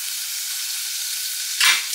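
Butter sizzling in a pot while cooking shrimp for pot rice, a steady hiss that swells into a brief louder burst near the end, close up and without any talk.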